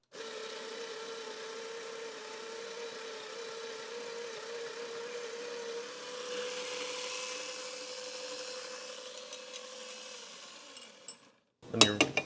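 An electric coffee grinder grinds locally roasted coffee beans, a steady whirring motor hum lasting about eleven seconds before stopping, followed by a few brief clattering knocks.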